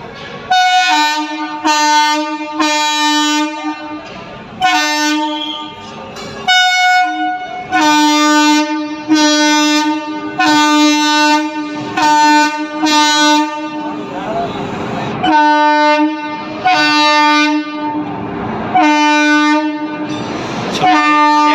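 Heavy double-engine train crossing a railway bridge in Anantapur, with repeated loud horn blasts in long sustained tones close by, rumbling wagons underneath throughout.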